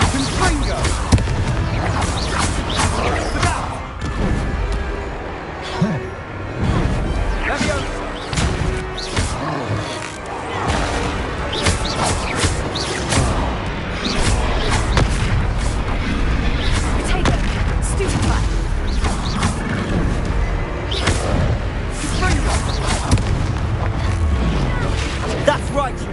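Spell blasts and booms from the Hogwarts Legacy video game as the Confringo fire spell is cast in a duel, loud repeated explosive hits layered over dense battle effects and music throughout.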